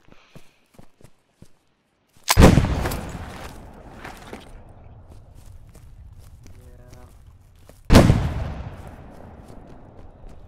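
A grenade detonates in a tactical shooter game, two loud, sharp blasts several seconds apart, each with a long rumbling decay, after light clicks and footsteps.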